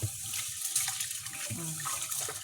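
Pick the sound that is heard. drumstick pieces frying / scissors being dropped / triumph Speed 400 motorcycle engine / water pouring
water pouring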